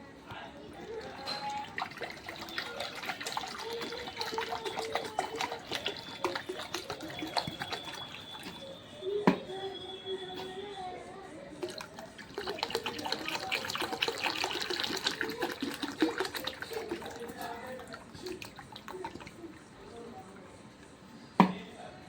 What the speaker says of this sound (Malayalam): ഒരു മൺകലം എടുത്തിട്ടുണ്ട്, അതിൽ വെള്ളം ഒഴിക്കാൻ വേണ്ടി പോവാണ്